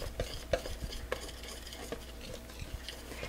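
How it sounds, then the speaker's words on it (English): A spoon stirs a thickening homemade fudge mixture in a pot, scraping and knocking against the sides in close, irregular strokes with soft clinks, and no voices are heard. "I'll mix that in. See how it's thickening up?"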